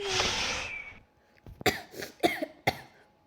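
Several short, sharp coughs in a quick irregular series from one person, close and fairly loud, after a stretch of steady noise, in a horror game setting.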